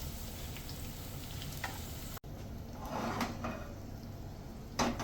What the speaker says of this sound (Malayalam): ഈ കടുവ് വറുത്തത് നമുക്ക് ഈ പച്ചടിയിലേക്ക് ഇടാം.